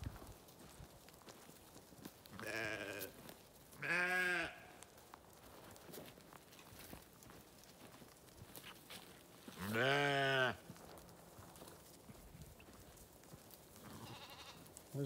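Sheep and lambs bleat on a farm, with a few separate loud calls spaced apart and a fainter one at the end, over quiet background rustle.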